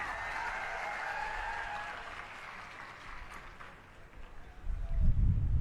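Crowd applauding at an Aam Aadmi Party political rally in Unjha, Gujarat, a faint diffuse wash of clapping that thins out before a louder rumble near the end.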